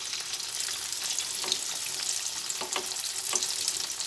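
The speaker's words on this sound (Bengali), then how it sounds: "কড়াইতে দিয়ে ভেজে নেব।" Egg dhoka pieces frying in oil in a wok: a continuous loud close sizzle with crackling spits and a few sharp pops as pieces settle in the oil.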